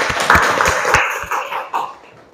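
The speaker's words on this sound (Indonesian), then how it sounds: "tepuk tangan dulu untuk semuanya" Short burst of classroom applause for everyone, with a handful of sharp claps standing out over a rustling wash of hand claps, loud and close, fading toward the end.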